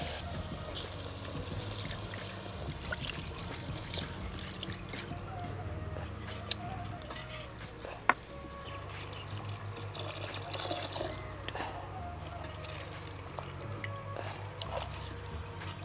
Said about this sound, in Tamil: இப்போ தண்ணி ஊற்றலாம்.